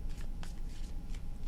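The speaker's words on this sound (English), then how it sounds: "Last shuffle." Tarot cards being shuffled close up, a quiet quick riffle of soft papery flicks and slides lasting just over a second, with no talk.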